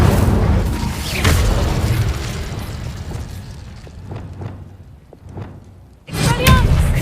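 Fiery Incendio spell blast in the video game Hogwarts Legacy, a loud booming burst up front followed by crackling, rumbling impacts, then a second sharp blast near the end.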